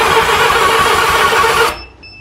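A barn-find vintage Honda Goldwing motorcycle engine cranking on starting fluid with the throttle held open, a steady loud whirring churn that runs close for most of the moment and then abruptly stops into near silence.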